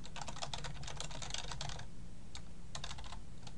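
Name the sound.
typing on a computer keyboard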